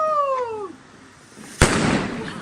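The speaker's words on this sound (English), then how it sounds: "the 2 is a double break rocket" A double-break firework rocket launches with a rising whistle that trails off, then bursts in one sharp, loud explosion followed by a crackling, rumbling tail, heard at a moderate distance during a bonfire night display.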